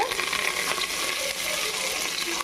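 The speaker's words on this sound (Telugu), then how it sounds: "కొంచెం ఫ్రై చేసుకుందాం, కొంచెం ఫ్రై అయితే చాలు." Whole spices such as cinnamon and cloves frying in a pan for Hyderabadi chicken biryani, giving a steady, close, broadband sizzle that holds at an even level throughout with no talk over it.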